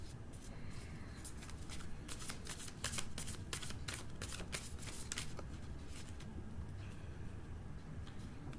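Tarot cards shuffled and drawn by hand, a close papery riffle and slide with a burst of sharper flicks in the middle, over a low steady background hum and without speech.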